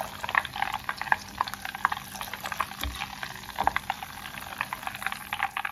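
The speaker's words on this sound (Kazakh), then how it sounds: "Неге достар, май қайнап, суы әбден сарқылды." Rendered fat for ghee boils in a pot as its water cooks off, giving a dense, close run of irregular bubbling pops and crackles over a soft, steady sizzle.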